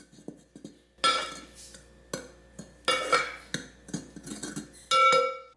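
Sugar, a pinch of salt and yeast being stirred in a bowl for cinnamon roll dough, heard as a series of close, bright clinks and scrapes of a utensil against the bowl in irregular bursts, with no talking.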